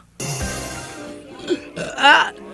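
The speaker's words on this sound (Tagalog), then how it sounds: "Maglisog kong burp, oy." A loud, drawn-out burp with a throaty rasp, swelling to a strong peak near the end, close to the microphone and with no talk over it.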